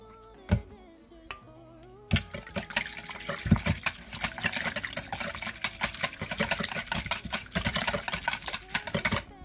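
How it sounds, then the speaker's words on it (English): Canned evaporated milk pours into a baking dish with cream of mushroom soup. After a few faint clicks, a steady glugging, splashing stream sets in and carries on close by. "The can of evaporated milk is going in."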